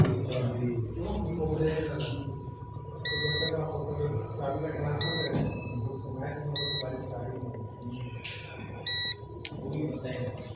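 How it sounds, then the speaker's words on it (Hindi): A multimeter in continuity mode beeps while testing a vehicle's injector sensor, giving four short, clear beeps spaced a couple of seconds apart under someone talking steadily throughout. "सबकी बीप की साउंड भी आ रही है"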